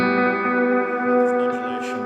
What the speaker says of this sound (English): So the idea for me of combining the delay and the reverb is that the amount of reverb that you have controls really how distinct the repeats are